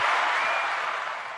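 Short burst of steady applause, a dense wash of clapping that tapers slightly toward the end, with no voices over it.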